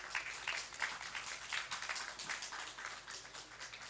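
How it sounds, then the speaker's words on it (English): Faint applause from a conference audience at a transport and road safety session, a continuous patter of many hands heard from a distance at low volume. "Let's all welcome our speakers with a thunder applause."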